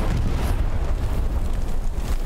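Continuous heavy rumbling booms of a bombardment in the World War II shooter Hell Let Loose, loud and dense with low-end roar throughout and no clear gaps between blasts.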